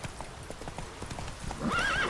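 A horse gallops in The Witcher 3 video game, with rapid close clip-clop hoofbeats over a moderate background, ending in a whinny.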